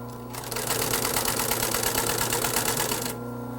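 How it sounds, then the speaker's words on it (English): Sewing machine stitching around the corner of an inner spring sofa cushion for a camel back sofa: a fast, even mechanical chatter starting after a brief hum and running steadily for about three seconds, close and alone. "Sew on around the corner."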